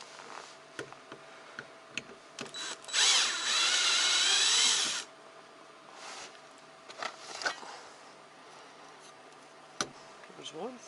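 Power drill backing screws out of the roof of a 1998 Jeep Cherokee XJ: one loud, steady two-second whir stands clear above faint clicks and handling noises, with brief scattered taps before and after.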